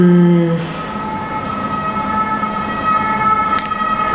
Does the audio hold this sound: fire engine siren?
yes